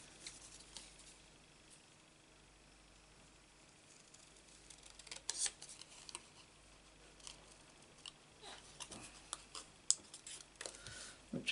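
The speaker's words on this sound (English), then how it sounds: "Right, the sentiment I have to cut." Scissors snipping through paper to cut out a card sentiment, giving quiet, irregular crisp cuts that become more frequent toward the end over a faint room hum, with no talking.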